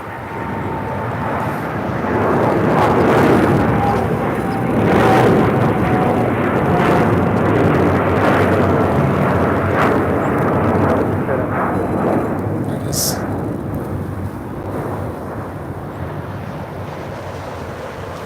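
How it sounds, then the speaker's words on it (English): A Boeing 787 Dreamliner airliner at LAX airport, heard as a loud, continuous jet roar with wind buffeting that swells early and then holds steady. A faint voice comes through under the noise. "We got a Dreamliner."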